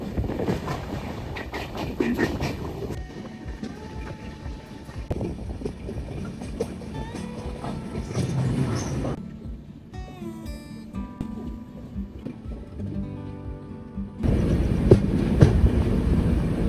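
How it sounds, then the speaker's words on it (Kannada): A passenger train runs on after leaving Ernakulam Junction on the way to Ernakulam Town. The cabin holds a continuous rumble with rail clatter that fades to a quieter stretch, then swells loud again near the end. "ಸೊ ಈಗ ನಮ್ಮ ಟ್ರೈನ್ ಅಲ್ವಾ ಜಂಕ್ಷನ್ ಇಂದ ಡಿಪಾರ್ಚರ್ ಆಯ್ತು."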